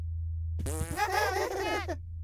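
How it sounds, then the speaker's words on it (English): Fart sound effect from the video game Oddworld: Munch's Oddysee, a buzzy, warbling blurt lasting about a second and a half, heard over a steady low game hum. "Apparently that's just the fart sound, which is always good."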